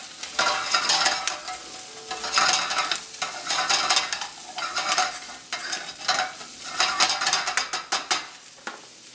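Herbs and garlic heat in a pan for chicken Marsala, giving a steady close sizzle broken by repeated bursts of stirring and scraping against the pan, with no talking.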